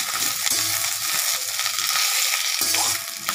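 Ridge gourd peel sautéing in sesame oil, a loud, continuous close-up sizzle with soft stirring scrapes running through it.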